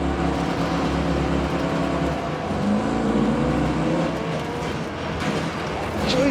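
Race cars in Wreckfest 2 roll off the grid together, a dense, steady roar of several engines revving and accelerating at close range, with no one talking over it.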